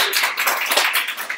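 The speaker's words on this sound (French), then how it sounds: "merci, on applaudit" Students in a classroom clap in a short, close, uneven burst of individual hand claps, loud and unbroken, with no talking over it.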